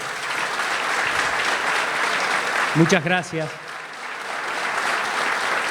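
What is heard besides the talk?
applause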